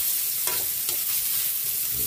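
Garlic sizzles in hot cooking oil in a pan, a steady broadband frying hiss with a few soft stirring scrapes, close and moderately loud, no voices.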